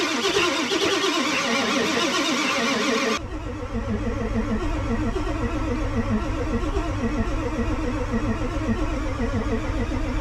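An engine labours through a cold start at -42°F. A few seconds of harsh cranking gives way to a rough, pulsing run that carries on loudly.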